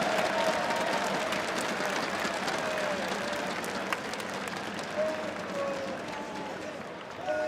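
G2 fans cheering and applauding in a packed arena at the CS:GO PGL Major Antwerp 2022: a dense, steady roar of crowd noise that holds for several seconds, with occasional louder bursts.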